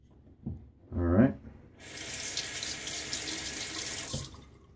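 A tap runs water into a sink to rinse during a wet shave with a Gillette Silver Blue razor, a steady hiss lasting several seconds after a brief clatter, then cut off.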